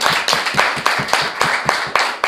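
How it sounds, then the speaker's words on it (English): Audience applauding after a competitive debate round, a steady run of dense clapping from a crowd, loud and close throughout with rhythmic peaks. "So again, give them another round of applause."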